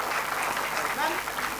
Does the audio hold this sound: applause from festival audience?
yes